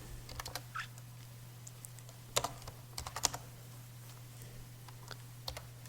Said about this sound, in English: So we need to type iptables